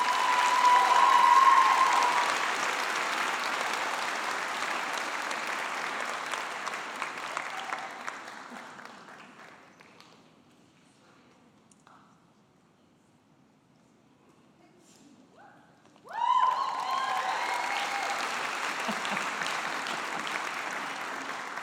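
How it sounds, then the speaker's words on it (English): A large audience at a BCIT convocation ceremony claps loudly and steadily, the applause slowly thinning and fading almost to silence before a second strong burst of clapping erupts and carries on to the end. "Let's give him a big round of applause."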